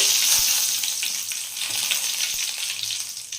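Curry leaves hit hot oil already holding tempering spices, giving a loud, dense sizzle that crackles on for a few seconds with scattered pops and no voices.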